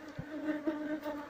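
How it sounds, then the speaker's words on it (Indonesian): Apis cerana honeybees and stingless bees buzz around their shared nest, a close, steady tonal hum with small wavering swells as insects move about. "Ini tawon Pakde Subrin, tawon unik karena sarang lebah Apis cerana dengan"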